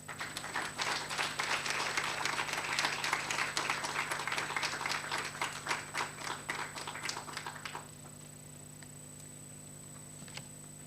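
An audience applauds the Minister at the Youth Work Indaba, a dense burst of clapping that lasts several seconds and then cuts off into a quiet room hum.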